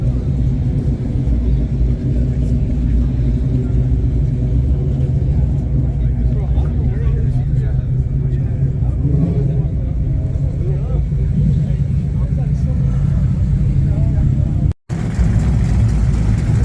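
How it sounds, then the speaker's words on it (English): A steady, low rumble of supercharged Corvette engines idling at a car meet, continuous and fairly loud for the whole stretch, with a momentary dropout near the end. "More Corvette action. It's got a blower on it."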